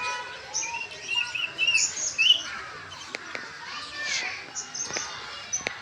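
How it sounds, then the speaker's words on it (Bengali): Zoo birds chirp and tweet in quick, bright bursts at moderate distance, mixed with the voices of children playing nearby. "এটা হচ্ছে লটকন পাখি।"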